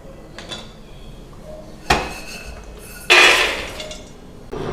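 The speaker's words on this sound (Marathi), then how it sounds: "हे साईडला आपण प्लेटमध्ये काढून घेऊया।" Roasted dry fruits are tipped from a pan onto a plate, with a sharp metallic clank followed by a louder rattling clatter of pieces sliding and scattering, then quieter handling noises.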